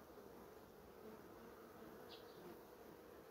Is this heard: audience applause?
no